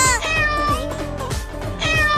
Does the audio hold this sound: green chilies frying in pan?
no